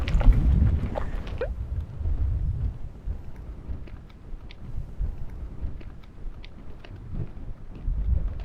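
Strong gusts buffet the microphone on a golf course, low rumbling wind roaring loudly at first, then easing into a steadier, quieter blow with intermittent surges toward the end.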